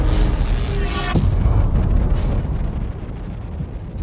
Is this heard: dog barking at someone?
no